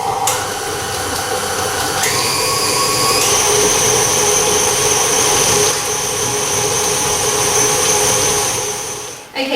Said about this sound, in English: I'm going to beat that until it's really light and fluffy